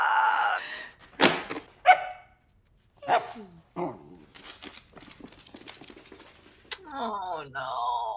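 A dog barking in the horror movie The Babadook: a few sharp, separate barks mixed with other film sounds, while people talk over them.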